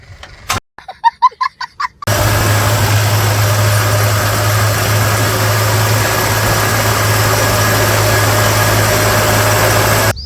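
A tractor engine runs steadily at idle with a strong low drone and constant vibration, close and loud for most of the clip, after a few brief sharp sounds at the start.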